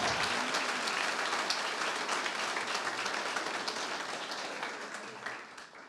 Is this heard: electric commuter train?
no